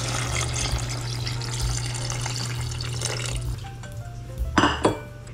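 Water runs into a pot for kimchi stew, a steady pouring rush over a low hum. It ends with a few clinks of the pot and utensils.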